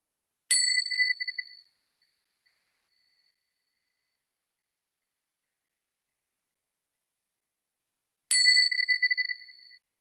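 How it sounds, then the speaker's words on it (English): A meditation bell rings twice, each a clear bright tone with several harmonics that rings out and decays over about a second, separated by roughly seven seconds of silence. "I will ring my bell just to bring our attention to the breath"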